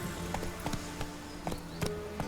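Roach, a horse in The Witcher 3, moves along with rhythmic hoof clops sounding at a steady pace against a soft ambient background, with no talk.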